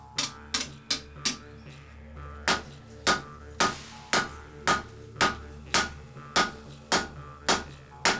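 Steady hammer blows forge-welding a billet of many O2 steel layers, about two strikes per second, loud and ringing with sharp metallic transients over a low background hum, no talk.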